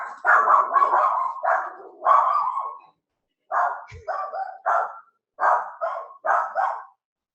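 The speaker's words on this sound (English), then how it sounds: "Even when mine barks at you like that" A dog barks in quick, loud, close runs, two clusters of sharp yapping barks separated by a short pause, with nothing else heard around them.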